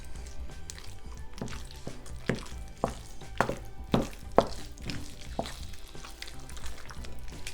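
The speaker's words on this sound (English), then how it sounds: "Break up those eggs." Eggs being broken up and stirred into a ricotta stuffing for manicotti, with a series of soft wet squishes and scraping taps at an irregular rhythm, close and fairly quiet.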